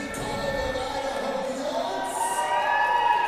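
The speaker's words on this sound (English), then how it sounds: "We've got a good crowd now." A crowd at a college men's basketball game between Oregon Tech and College of Idaho, a steady wash of crowd noise and cheering that swells slightly near the end, with voices shouting within it.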